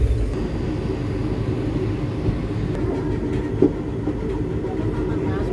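A delayed passenger train heading towards Medchal rumbles steadily along, heard from inside the carriage as a constant low roar with faint rail clatter and one brief knock.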